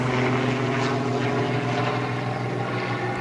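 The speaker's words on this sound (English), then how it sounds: "And sorry, the helicopter's flying by." A helicopter flies over a vineyard road in Burgundy's Côte de Beaune, a steady low rotor drone with a broad rumbling wash that stays loud and continuous throughout, with no talking.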